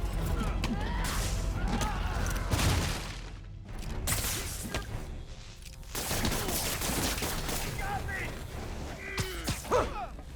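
Gunfire in Marvel's Spider-Man on PS4/PS5: rapid bursts of sharp shots crack in loud clusters with brief pauses, mixed with mechanical clatter and impacts, and a character's voice breaks in between.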